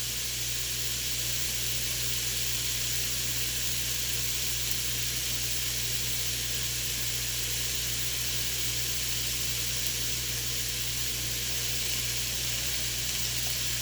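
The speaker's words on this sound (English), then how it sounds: "But you can hear that lovely sizzle." Steady, continuous sizzling hiss of meat browning on high heat in an Instant Pot pressure cooker, loud and close, with no talking over it.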